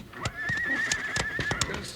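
A horse whinnies loudly in a 1954 Wild Bill Hickok western radio drama, a long wavering neigh near the listener, with a few hoof clops and faint voices underneath.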